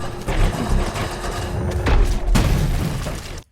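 A movie blast sound effect meant as a laser but closer to a cannon: heavy booming, crackling bursts that roll on continuously, with a sharp renewed hit partway through before cutting off abruptly.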